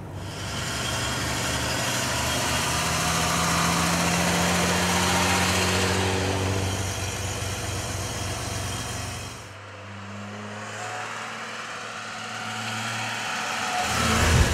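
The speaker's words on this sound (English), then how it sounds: "There probably is nothing that beats driving a 300 SL, especially in the Californian hills." A Mercedes-Benz 300 SL engine runs steadily while driving through the Californian hills, a close, continuous drone that dips briefly partway through before building again toward the end.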